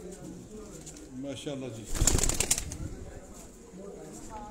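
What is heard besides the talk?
pigeons cooing on rooftop in Sialkot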